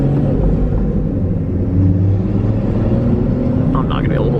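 A BMW M240i with a B58 engine and a Stage 2+ tune accelerates in second gear, a loud steady low rumble recorded close, with no clear rise in pitch.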